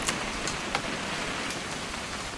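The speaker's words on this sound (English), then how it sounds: "It's going to rain the whole weekend" Steady rain in the video game What Remains of Edith Finch hisses evenly throughout, with a few sharper droplet taps standing out against the constant wash of noise.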